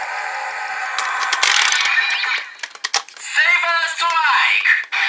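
Electronic sound effects from a Kamen Rider Beast toy saber attack, with a bright swooshing burst, sharp clicks, and a warbling synthetic tone near the end.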